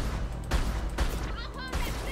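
Precision rifle fired with multi-fire in the video game Mass Effect 2, several sharp booming shots in quick succession over game ambience, with a voice speaking over them.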